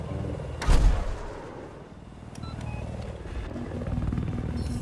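Helicopter rotor drone and gunfire in Battlefield 4 combat, with a loud blast near the start followed by a steady low rumble and scattered shots that build toward the end.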